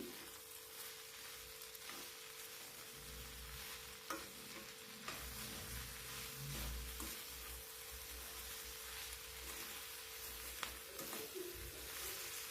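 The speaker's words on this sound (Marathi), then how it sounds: "मीठ टाकून झाल्याच्या नंतर परत एकदा भाजी आपल्याला छान मिक्स करून घ्यायची।" Okra stir-fry being stirred in a hot pan, with soft sizzling throughout and repeated scraping stirs. Moderately quiet and close, with no talking.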